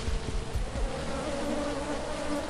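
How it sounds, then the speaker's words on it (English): Bees buzz steadily in the Sneaky Sasquatch video game, a continuous droning hum that holds at one level from start to finish, with no voices over it. "Those bees are really bad."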